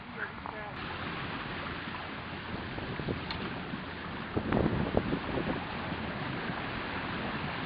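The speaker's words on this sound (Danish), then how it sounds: "som du kan høre, bølgerne de klapper op under" Water slaps and laps under the hull of a Nordship 360 boat, with irregular splashes over steady wind and a continuous washing rush, close to the microphone.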